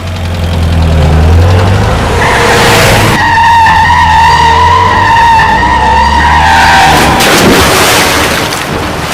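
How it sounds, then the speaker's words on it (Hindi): A family car is started and driven off, engine rumbling low, then a loud, sustained tire squeal rises over it for several seconds before the engine noise takes over again. "किशन ने गाड़ी स्टार्ट कर दी।"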